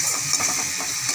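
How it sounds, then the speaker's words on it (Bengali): Masala spices and chopped tomato fry and get stirred in a pan, giving a steady close sizzle with soft scraping. "মশলাটা ভালো করে কষিয়ে নিচ্ছি।"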